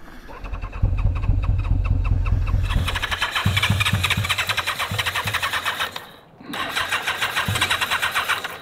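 Engine of a 37-year-old motorcycle that had sat for 20 years cranking and catching, then running with a rapid, uneven mechanical chatter that briefly cuts out before resuming, close and fairly loud.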